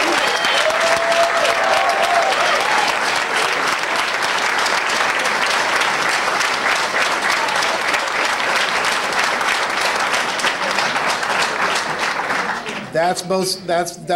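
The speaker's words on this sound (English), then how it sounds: "let's give them a hand of applause for that" An audience applauds new fire recruits at a joint fire school graduation ceremony: dense, sustained clapping fills most of the stretch, then thins and breaks up near the end as a voice returns.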